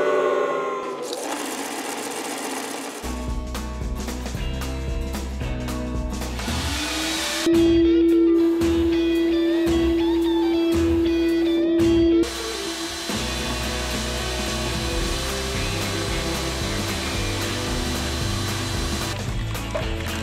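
A multitool belt grinder runs loud and close with a steady high whine, shifting pitch and load as metal is worked, with a sustained tonal hum through the middle section.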